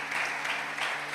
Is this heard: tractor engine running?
no